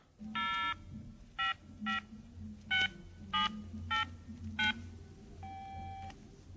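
Mobile phone keypad tones as a number is dialed, seven or eight short clear beeps in an uneven sequence followed by a longer tone, over a faint low background hum.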